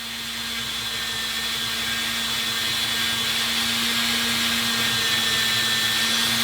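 A power tool polishes a Glock trigger part with a loud, steady, close whine and a constant hum that rises slightly at the start and then holds evenly throughout.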